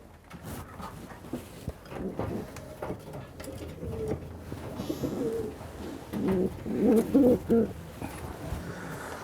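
Homing pigeons coo in low, repeated throaty phrases in an aviary, growing louder toward the end, with rustling and light background clatter.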